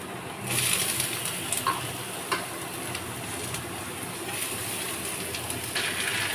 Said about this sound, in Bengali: পেঁয়াজটা ভাজা হয়ে গেছে, লাল লাল করে ভাজা হয়ে গেছে। এবার এটা দিয়ে দেবো।